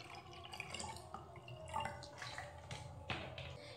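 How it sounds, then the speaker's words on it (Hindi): Cold water poured into a bottle, a steady splashing trickle with brief drips and bright bursts running through the whole few seconds, fairly close and moderately quiet, with no talk. "फर्स्ट में इस बॉटल में ठंडे पानी ले रही हूँ"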